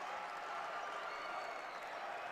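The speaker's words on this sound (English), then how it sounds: "Crowd getting loud." A crowd at a Nebraska Class B boys basketball semifinal keeps up a steady, distant roar, a continuous wash of cheering and noise without clear breaks.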